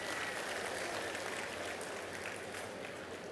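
Audience clapping at a rangoli contest for the women taking part: a dense, steady patter of applause at moderate distance, continuous and fairly soft throughout, with no voices standing out.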